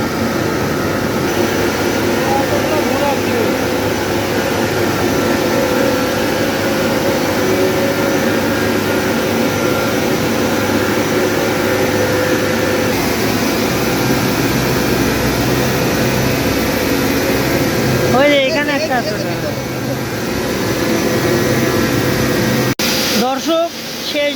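Large gearbox running in a sugarcane juice mill, a loud continuous mechanical drone and whir with steady industrial hum, close by, with brief changes near the end.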